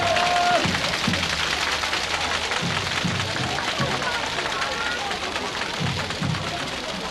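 An audience at a public rally backing a high-speed rail link gives sustained applause, a dense, steady wash of clapping that continues throughout with crowd voices and talk mixed in.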